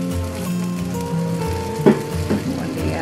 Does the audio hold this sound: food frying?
yes